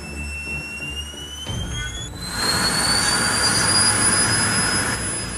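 A TS1400 helicopter turboshaft engine spools up during a test run, a rising whine joined by a loud, steady roar that builds and holds.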